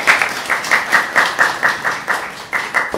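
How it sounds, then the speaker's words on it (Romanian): Rhythmic clapping from a group at a school art exhibition, loud and close, with regular beats about four per second and a brief break near the end. "Aplauze!"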